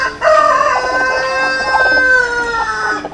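Rhode Island Red rooster crowing once, loud and near, a single drawn-out call of about three seconds on a free-range chicken farm.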